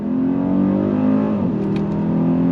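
Steady, loud engine drone and road hum from inside a 2024 Mercedes-Maybach GLS 600 under throttle, its tone rising and then shifting smoothly as it changes gear.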